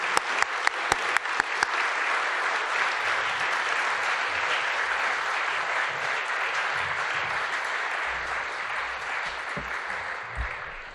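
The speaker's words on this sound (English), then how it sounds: "please join me with a round of applause to welcome Professor Pat Byrne" Sustained applause from a lecture audience welcoming Professor Pat Byrne, a broad dense wash of clapping that starts with a few sharp claps and holds steady for the whole stretch, then slowly tapers.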